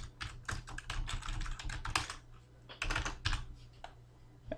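A computer keyboard rattles with quick bursts of close keystrokes as a name and email address are typed, irregular clusters of clicks separated by brief pauses.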